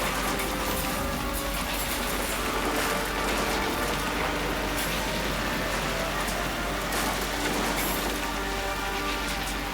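A torrential rain sound effect played during a projection-mapping show at an aarti: a dense, steady, unbroken hiss of heavy downpour lasting throughout, with no pauses or distinct drops.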